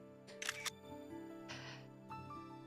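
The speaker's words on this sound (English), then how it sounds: "The shutter clicked, dominating the noisy soundscape for just a moment." In the video game Lover Pretend, a camera shutter fires with a crisp mechanical click over soft background music, followed by a second brief whir, quiet and close.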